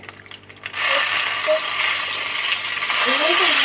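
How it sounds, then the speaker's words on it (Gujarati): Cumin seeds and curry leaves hit hot oil in a pan on a low flame, setting off a loud, steady sizzle that swells suddenly and keeps crackling throughout. "ગેસ ધીમો કરી અને અંદર જીરું નાખું છું. પછી આપણે મીઠો લીમડો નાખીએ."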